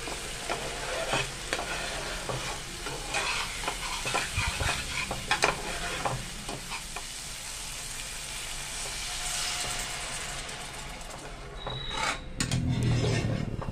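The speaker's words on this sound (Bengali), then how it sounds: "সর্ষে পোস্ত বাটা দিয়েও আর একটু ভালোভাবে কষে নেব।" Fish curry being stir-fried in oil with a ground mustard and poppy seed paste, made with koira fish: a steady close sizzle with repeated scraping and stirring strokes of a spatula in the pan, and no talk.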